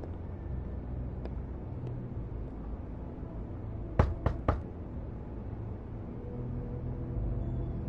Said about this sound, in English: I'm gonna knock.